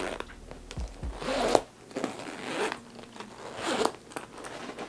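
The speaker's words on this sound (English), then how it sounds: "And it is the smoothest zipper pull that I have." Tiny zipper pull on a Louis Vuitton Loop bag drawn along its track in three separate close-up zips, each a short rising rasp, with quiet handling noise between them and no talking.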